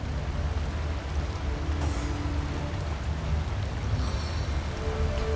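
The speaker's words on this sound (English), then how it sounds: "I'm gonna cast rain and then I'll do a hail" A rain spell in the video game Divinity: Original Sin gives a steady, dense hiss of falling rain with low rumble underneath, continuous and fairly loud throughout.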